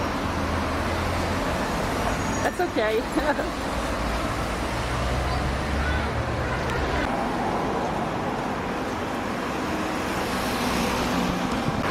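Steady traffic rumble with cars passing close by on a busy street in Cape Cod, engines droning continuously while a person briefly speaks and background voices murmur.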